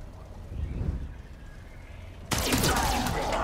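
Gunfire in the tactical video game Miasma Chronicles breaks out suddenly as a loud, sharp burst of shots with a harsh crackling tail, following a couple of seconds of low, quiet game ambience.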